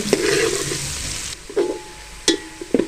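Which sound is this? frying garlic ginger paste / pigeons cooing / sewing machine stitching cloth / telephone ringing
frying garlic ginger paste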